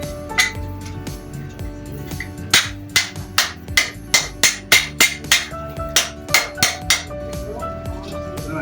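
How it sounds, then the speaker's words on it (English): A wooden hammer strikes metal at a steam engine show, flattening it with a run of about fifteen evenly paced, ringing soft hits that come close and clear with faint background clatter between them. "Gonna do a couple soft hits with the wooden hammer now."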